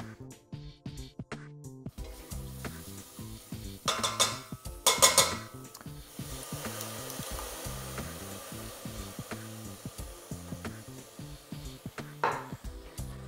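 Curry of ginger, garlic, chili, onions and tinned tomatoes being stirred in a pan, giving close, repeated scraping and rubbing strokes with a few louder bursts and no talking.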